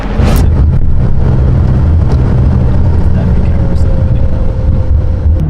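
McLaren supercar engine rumbling loud and close with a steady, slightly rising roar, while people talk faintly in the background.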